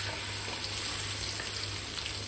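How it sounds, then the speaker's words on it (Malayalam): Marinated kingfish sizzles in a frying pan with a steady, dense crackle of hot oil that stays close and even throughout. "മീൻ നന്നായിട്ട് ഫ്രൈ ആയി വന്നിട്ടുണ്ട്."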